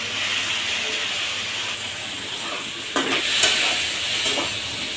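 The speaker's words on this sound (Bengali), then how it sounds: "এখন ভালো করে একটু নেড়ে দিচ্ছি।" Yellow and red capsicum stir-fried with soy sauce in a pan, giving a steady close sizzle and hiss with a few scraping stirs partway through, no talking.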